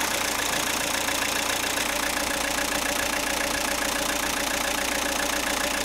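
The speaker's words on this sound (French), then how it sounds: "Démarrez le moteur." Close, loud car engine running at a steady idle during an air flow meter test, a constant uniform rumble with no voices.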